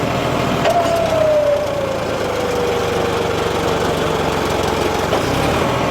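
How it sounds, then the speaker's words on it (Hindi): A tractor engine drones steadily under heavy load with two-wheel drive engaged, its labouring note sagging as it nears stalling, loud and close with no talk. "ये ट्रैक्टर ही बंद होने को फिर रहा है"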